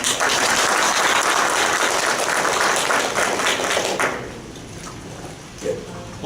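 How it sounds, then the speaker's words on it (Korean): Dense, loud audience applause at a Baptist historical theology society paper presentation welcomes a speaker being introduced, continuing steadily for about four seconds before fading quickly. "박수를 많이 주시면 감사하겠습니다."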